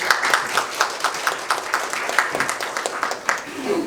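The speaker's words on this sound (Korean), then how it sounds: "박수로 모시겠습니다." An audience at a library workers' panel discussion gives a short round of clapping to welcome a speaker, with distinct individual claps throughout and a voice speaking over them.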